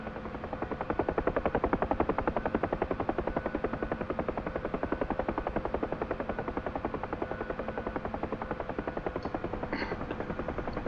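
Huey helicopter in flight during gunship training, a loud, steady rapid rotor chop with a constant engine whine running throughout, close and continuous with no voices.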